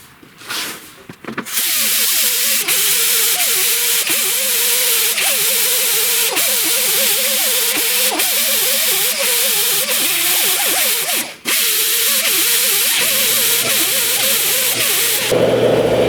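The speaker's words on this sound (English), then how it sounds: "There's any number of ways to grind these bolts off." A small 3-inch roll-up grinder cuts off bolts during the teardown of a 1931 Ford Model A Fordor slant window sedan, a loud steady whine that runs almost nonstop for about fifteen seconds with one brief break, no talk over it.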